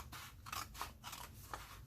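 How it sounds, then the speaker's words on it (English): Scissors snip through paper on a cutting line, a rapid series of about five or six crisp close cuts in quick rhythm, fairly quiet. "it's so easy with the scissors"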